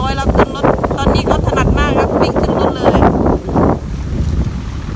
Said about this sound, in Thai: ลมแรงนะคะลมแรง